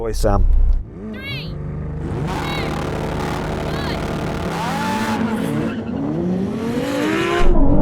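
Ferrari 296, McLaren 750S, Lamborghini Huracan Performante and Porsche 911 Turbo race each other, engines roaring loudly with sustained rising and falling revs and tire noise, a voice heard at times over the steady engine drone.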